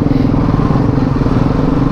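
A motorcycle engine drones steadily and loudly up close, a continuous low rumble with slight pulsing throughout.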